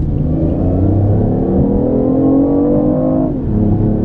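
BMW i8 accelerating in sport mode under full boost: a loud, close engine and drivetrain note climbs steadily in pitch as revs build, then briefly dips and picks up again near the end.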